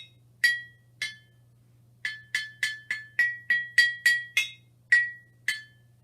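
Water glasses and glass jars are struck one at a time, giving bright ringing clinks with short decays, two spaced strikes followed by a quick run of about a dozen evenly paced tones over a low steady hum.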